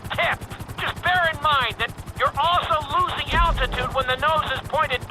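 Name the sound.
helicopter engine in Grand Theft Auto V video game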